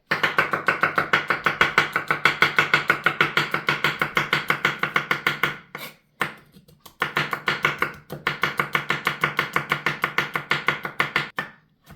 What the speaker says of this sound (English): So here I'm just going to cut it up in slivers